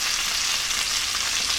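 Food frying in a breakfast pan, a loud, steady close sizzle with fine crackling and popping that continues unbroken and without speech.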